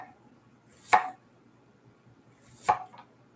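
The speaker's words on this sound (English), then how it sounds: "I fumble through dicing up a few onions here" Knife dicing onions on a cutting board: two distinct, moderately loud chops about two seconds apart, each a crisp knock with a brief scrape, with little else around them.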